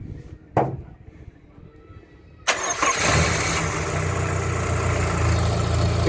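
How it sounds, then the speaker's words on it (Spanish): A cold, freshly rebuilt engine cranks and fires for its first start, preceded by a brief thump, then catches and settles into a steady, loud idle that runs to the end. "el motor está frío, esto está frío, esto no se ha prendido desde la última vez que lo paré aquí en la casa, así que vamos a proceder al primer arranque"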